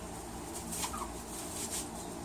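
Seven-week-old chicks clucking softly in a quiet, sleepy murmur, with a few faint clucks and chirps over a low hush.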